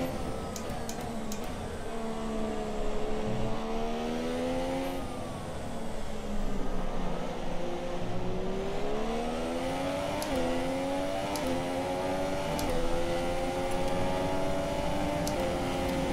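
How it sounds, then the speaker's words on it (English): Several race cars circle the track together in a racing video game, their engines droning and shifting pitch as they pass, a steady mid-level roar that swells and dips throughout. "Gaggle of cars there going round."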